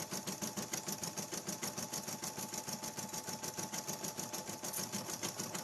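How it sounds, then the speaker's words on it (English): A home sewing machine stitching keychains at a steady, fast, even rhythm, a continuous mechanical whir and tapping needle heard close up with no talking. "You get to sew with me today."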